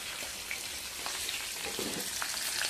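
A pot of malunggay leaves simmering on the stove, giving a faint, steady bubbling and sizzling hiss with small irregular pops, close by and with no voices.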